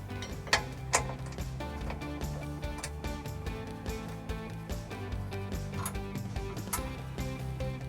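A ratchet clicks as factory bolts are tightened to secure a trailer hitch under a 2011 Dodge Durango, with rapid, uneven ticking and a few sharper knocks, close and moderately loud throughout.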